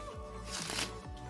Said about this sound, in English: Give them another riffle shuffle.